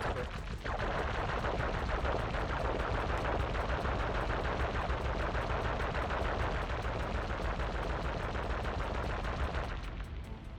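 A cannon fires in the video game Sly Cooper, a dense, rapid, loud barrage of repeated blasts running steadily for about ten seconds before cutting off.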